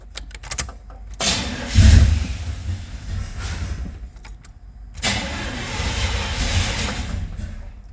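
A Chevy OBS C1500 pickup with a throttle-body injection flooding fault, 123,000 miles and nearly out of fuel, cranks and fires up, then settles into a loud, rough idle that surges again near the end, close up with no talking.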